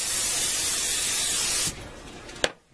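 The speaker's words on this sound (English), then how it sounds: "I'm going to spray this with a little food spray" A close, loud hiss of cooking spray onto a lid runs for over a second, cuts off, then a brief clunk and quiet follow.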